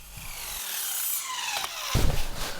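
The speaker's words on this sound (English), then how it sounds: "so I'm just going to have to cut 2 pieces on the miter saw" A miter saw cuts wood pieces for a garden bench, its motor whining up into a bright, rising squeal as the blade bites through, followed by a burst of rougher cutting noise near the end, with no talking.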